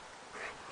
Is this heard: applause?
no